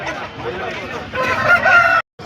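A rooster crows loudly and close by at a busy Pileru hen market, its drawn-out call rising and holding for about two seconds over crowd noise before cutting off abruptly.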